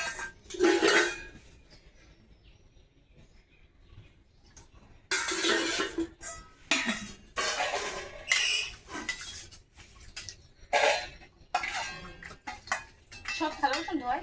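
Rice is served onto plates at home, with close bursts of clinking dishes and scraping utensils separated by quiet pauses, and a voice speaking occasionally.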